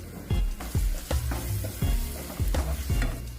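Tomato with coriander powder, paneer masala powder, turmeric and homemade masala sizzles and fries steadily in a pan, with regular scraping stirs and thumps of the spoon repeating about every half second, close and fairly loud.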